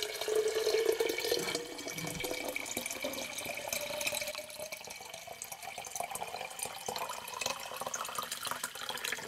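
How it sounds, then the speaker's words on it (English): Running tap water splashes steadily into a container, a continuous broadband rush with slight shifts in tone as it fills, no voices. "And you fill that up with water."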